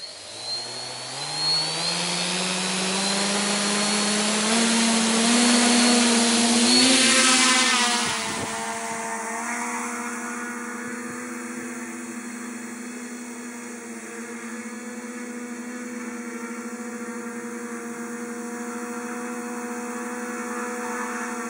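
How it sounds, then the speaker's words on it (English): T-copter multirotor spinning up to a hover, its motors rising to a loud whining buzz and then settling into a steady high-pitched drone with sharp tonal whine, alone and close. "Next, the T-copter hovers."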